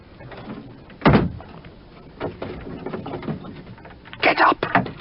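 A cell door closes in an audio drama, with a heavy thud followed by scraping and a louder metallic clatter near the end, recorded close amid quiet room noise.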